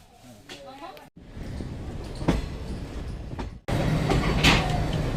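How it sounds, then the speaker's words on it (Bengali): A train pulls out of Howrah station with a steady rolling rumble and occasional clanks and squeals, heard from inside a carriage with people talking nearby. "ট্রেন এই মুহূর্তে হাওড়া স্টেশন ছাড়লো"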